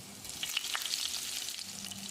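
Ginger and green chillies sizzle steadily in hot oil in a wok-style pan, a continuous close crackle with a few brighter pops, and no voices over it.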